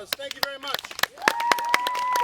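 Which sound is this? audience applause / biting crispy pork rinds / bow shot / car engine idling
audience applause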